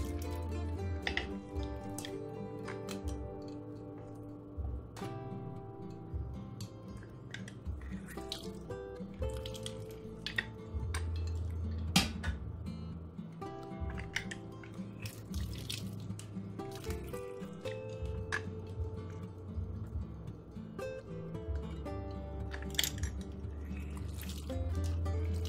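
Lemons squeezed in a hand juice presser drip and squish in quiet, irregular bursts over a steady low background hum, with faint handling clicks and no talk.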